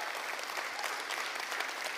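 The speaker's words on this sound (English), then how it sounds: "Can we just give a round of applause for all of our people who are serving the church today and every day?" A church congregation claps in steady, dense applause, a continuous wash of many hands filling the room at moderate loudness.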